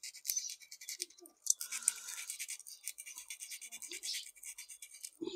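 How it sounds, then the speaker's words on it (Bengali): Battery terminals being rubbed rough before soldering make a quiet, close scratchy rasp in short repeated strokes, with brief gaps between passes. "প্রত্যেকটা ব্যাটারি ঘষতে হবে, ঘষা কাজটা না করলে কিন্তু সোল্ডারিং ধরবে না"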